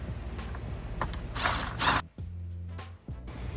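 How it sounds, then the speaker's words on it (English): A 7/8 socket wrench tightens the collar on a pool DE filter, giving close mechanical ratcheting clicks and grinding turns in several short strokes with brief pauses between them. "Tighten back down the collar using a 7/8 socket."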